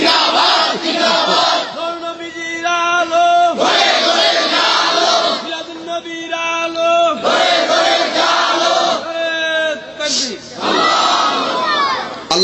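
A large crowd shouting the takbir, "Allahu Akbar", in loud unison at a religious sermon, several call-and-response bursts of chanting separated by short pauses.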